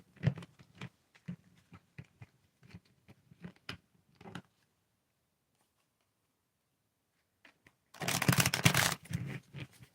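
A deck of cards is shuffled by hand in a quiet room, first as a series of short, soft riffling taps and snaps, then after a pause a dense, louder riffle burst near the end.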